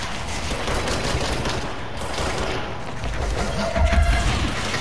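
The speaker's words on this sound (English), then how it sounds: "Oh, we got people up there shooting at me too." Enemy gunfire erupts in the video game Control as hostile soldiers shoot from above, a steady dense rattle of shots with a few heavier booms near the end and no talking.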